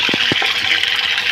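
Dirty backwash water gushes steadily out of the waste pipe of a 500 lph RO plant, a loud continuous rushing flow with a few low thumps near the start.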